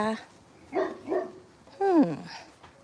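A dog barks a few times in sharp, close bursts, with a longer yelping bark near the end and some faint background noise.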